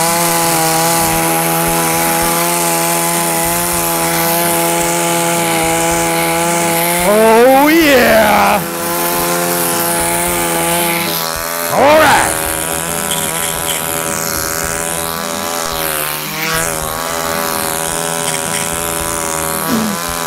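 A chainsaw engine drones loudly and steadily, revving up in sharp whining surges several times while it idles and runs close by.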